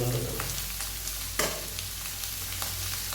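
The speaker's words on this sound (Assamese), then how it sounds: "মাছৰ কণী আগতে ভাজি থোৱা আছিলে সিজি আছিলে এতিয়া ইয়াত অলপ ৰঙচুৱা হৈ যাব" Fish roe fries in a pan with a steady, fairly quiet sizzle, broken by a few soft clicks and one sharper tap of a stirring utensil.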